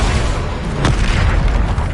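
In Hogwarts Legacy, a Bombarda spell detonates with a loud, deep boom that erupts suddenly and then rolls on as a rumbling blast, filling the space with no talking.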